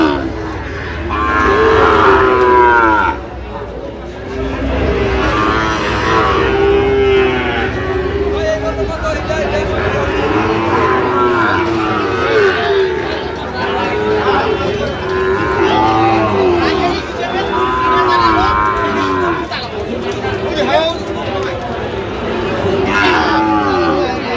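Several Sahiwal bulls moo loudly and repeatedly at a Dhaka cattle market, long drawn-out calls overlapping amid a busy outdoor crowd with people talking nearby.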